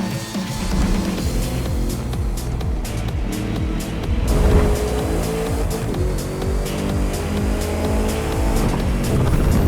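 Several hypercars roar past in The Crew 2 racing game, with screaming engines and tire squeal, a dense continuous racing din with gear shifts and passing swells.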